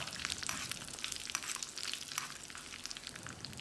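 Soft, steady sizzling and crackling of spices frying in hot oil for tomato rice, close by and continuous, with no voices.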